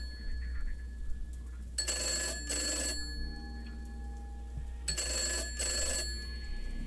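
Telephone ringing in the video game Grey Dawn, two bright bursts of double trills separated by a pause, loud over a steady low hum with no talking.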